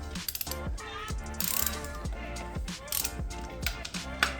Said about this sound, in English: Then we're going to loosen off the pinch bolts.